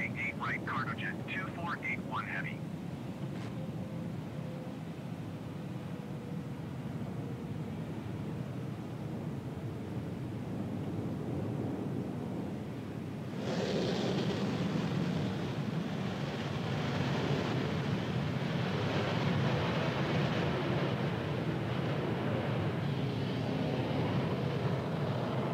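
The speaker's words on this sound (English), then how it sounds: "Avianca A320, short final, runway 9." An Avianca A320 on short final to runway 9 at Miami International in Microsoft Flight Simulator 2020 gives a steady jet roar that swells sharply midway and holds, loud and near, with a voice talking over it.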